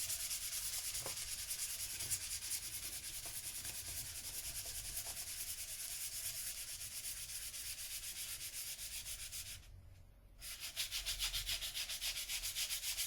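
Guitar frets being sanded during fret levelling, a close, steady scratchy rubbing of repeated strokes that runs almost continuously, with one short pause near the end.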